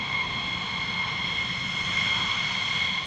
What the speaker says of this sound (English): Safety and precision are key as the Thunderbirds prep for their headlining flight.